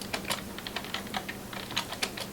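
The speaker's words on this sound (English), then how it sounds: "Right now we are trying to create kind of like a background, like typing" Foley typing on a computer keyboard makes a close, moderately loud stream of irregular key clicks with small pauses between bursts, heard alone without any voices.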